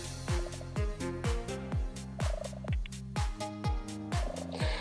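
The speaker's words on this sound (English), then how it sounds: "Oh, do you hear that purr?" A cat purrs right against the microphone in steady, rhythmic rumbling cycles, about two per second, loud and close with no talking.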